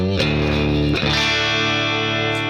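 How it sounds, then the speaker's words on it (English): An electric guitar played through an all-purpose clean tone rings out a few sustained chords, each strum ringing and decaying smoothly, heard up close and alone. "We got an all-purpose clean tone that is generally used"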